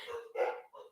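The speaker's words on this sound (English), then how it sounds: "sorry if you can hear my dogs barking" Pet dogs barking indoors at home, a quick pair of yips followed by a shorter bark within one second, moderately near and alone without talk.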